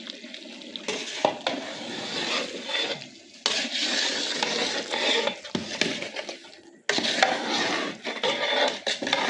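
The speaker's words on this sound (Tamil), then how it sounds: "இப்படி கொதிக்குது பார்த்தீங்களா அருமையாக இப்போ வந்து நம்ம கிண்டிக்கலாம்" Scraping and clinking of a spoon stirring mutton biryani inside a large metal pot, with bubbling liquid underneath, in a few separate bursts.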